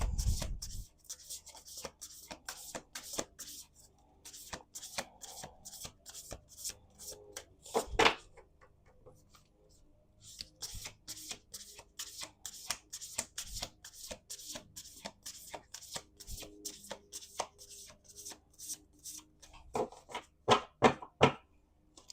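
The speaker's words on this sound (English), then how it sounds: "let's do 2 more shuffles." A deck of cards is riffle-shuffled several times, quick crisp flurries of flicking cards separated by short pauses, close up and alone.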